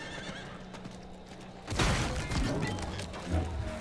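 A horse in the Diablo IV video game gives a loud, close whinny partway through, preceded by softer game ambience and followed by clattering hooves and rough noise.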